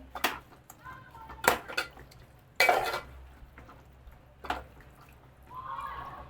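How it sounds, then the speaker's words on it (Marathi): Prawns are stirred through a masala in a pan for Malvani prawn rice, with intermittent scrapes and clinks of a spoon over a soft sizzle while someone talks. "प्रॉन्सला फक्त मसाला कोट होईपर्यंतच ढवळायचं आहे"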